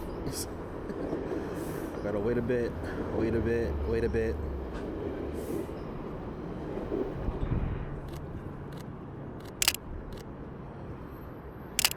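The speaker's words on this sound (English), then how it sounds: "I think I hear a train coming." A long train rumbles steadily past, a low continuous roar with rattling, while someone talks over the first half and sharp clicks follow near the end.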